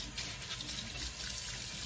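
Hot water runs steadily from a tap into a sink while a spray gun is being cleaned, a continuous gushing splash with no talking.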